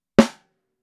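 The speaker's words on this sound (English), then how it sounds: "we shall see how this drum gel also changes the tone of the snare drum" A single snare drum stroke, damped with Meinl Drum Honey gel pads, rings out alone: a sharp, close crack with a short, quickly choked decay and no lingering ring.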